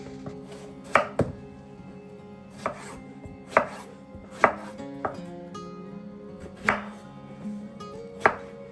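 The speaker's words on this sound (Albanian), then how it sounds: "Si fillim, për këtë recetë kam përdorur 3 patlıcan mesatar, të cilët më parë kam larë dhe do t'i presim." A knife chops three medium eggplants on a cutting board, giving sharp, separate thuds at an uneven pace, roughly one every second, over a low background hum, with no voices.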